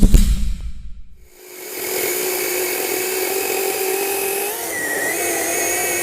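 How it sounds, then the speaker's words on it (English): A battery-powered chainsaw cuts through wood, its electric motor rising after a brief rumble into a steady, loud, high whine that holds for several seconds with a slight pitch dip near the end. "I've never had a battery-powered chainsaw that could do that."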